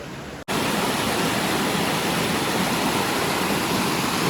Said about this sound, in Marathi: बघा हे वॉटरफॉलचं पाणी येत आहे खाली